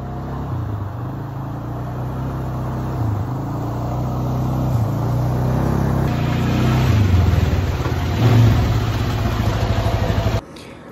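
Four-wheeler ATV engine running steadily while riding over rough ground on new tires, a loud continuous mid-range drone that swells and revs higher toward the end before cutting off abruptly.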